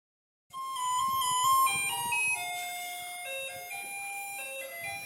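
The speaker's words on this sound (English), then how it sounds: "you'd recognize that as a remix of the Garbage Truck song" A remix of Taiwan's garbage truck song plays as a bright, tinkling electronic melody, loud and steady, with a clear stepwise tune and no voices.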